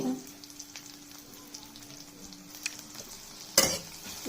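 Chopped onion and garlic fry in oil in a pan while being stirred, a steady close sizzle with scraping strokes and a louder clatter of the utensil near the end.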